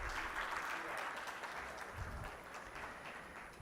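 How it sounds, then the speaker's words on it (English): Audience applause fills a large conference hall at a telecom industry event, a steady dense wash of many hands clapping continuously and fairly evenly throughout, with no speech over it. "I think with a big hand of applause"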